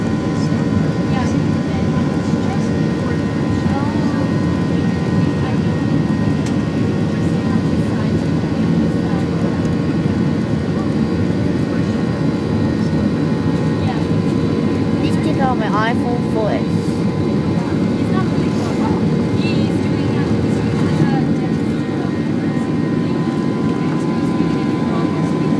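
Passenger airplane taking off from Toronto bound for Orlando, heard from inside the cabin as a constant loud engine roar and rumble that stays steady throughout, with faint voices now and then beneath it.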